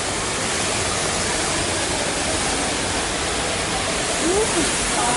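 Tarunggang waterfall roars in a dense, constant rush of falling water, loud and close, steady for the whole stretch with no other sounds standing out.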